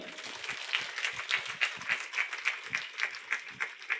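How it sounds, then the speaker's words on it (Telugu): A crowd at a meditation gathering applauds loudly and steadily, many hands clapping close and dense for the whole stretch with a slight rhythmic pulse. "ఒకసారి గట్టిగా చప్పట్లు కొడదాం"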